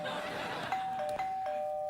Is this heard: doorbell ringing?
yes